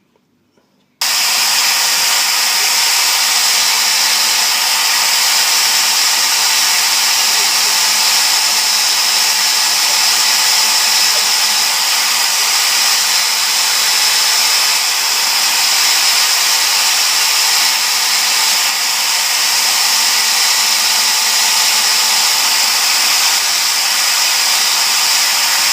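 A power tool drones steadily for over twenty seconds, cutting excess material from a handmade knife handle, loud, close and unbroken with no talk.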